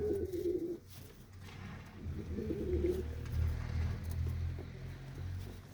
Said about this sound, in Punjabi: ਇੱਕ ਕਬੂਤਰੀ ਵੀ ਰੋਕੀ ਹੋਈ ਆ ਉਹ ਪਿੱਛੇ ਬੈਠੀ ਹੈ ਜੀ